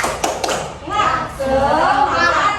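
Rhythmic clapping from a classroom chant, a few sharp claps in quick succession mixed with a voice leading the pattern, close and moderately loud.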